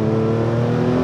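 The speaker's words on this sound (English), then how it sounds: "It wants to be revved." A Paul Stephens Porsche 911 Clubsport engine revving steadily with a strong, sustained drone and rich harmonics, loud and close throughout.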